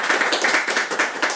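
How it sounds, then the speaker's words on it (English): A close, brisk round of clapping from a small group at a cricket discussion, with quick overlapping hand claps forming a lively continuous patter. "Big round of applause."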